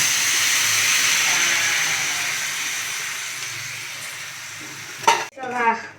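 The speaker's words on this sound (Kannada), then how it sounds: "ರುಬ್ಬಿದ ಮಸಾಲೆನ ಹಾಕೊಳ್ಳೋಣ." Ground masala drops into a hot pan for spicy egg masala and sizzles with a steady, bright hiss, then a spoon scrapes and stirs it in a few close strokes near the end.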